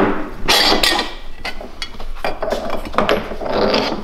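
A punch driver with a dimple die forms a dimple in a panel, giving a series of sharp metallic knocks and scraping rubs at close range, with no talk.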